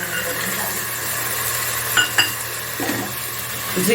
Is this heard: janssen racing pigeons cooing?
no